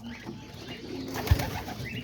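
Soft, low cooing from pigeons in a loft with breeding pairs and young birds, a faint murmur with one brief louder coo, and no one talking.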